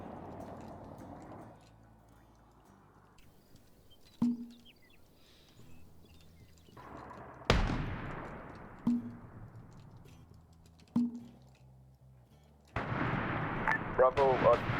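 Mortar and artillery fire in a military video game set in a Rhodesia campaign: several sharp booming blasts at irregular intervals, one louder with a long tail, over a low rumbling background, with bursts of chatter and noise near the end.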